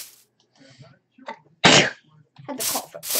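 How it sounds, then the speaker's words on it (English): A person coughs sharply once in the middle, a loud burst, with more bursts near the end, while people chat casually around it during a Minecraft game session. "Had to cough real quick."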